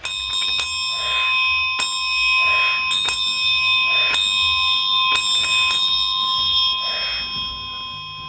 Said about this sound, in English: Here's SOS with a bell.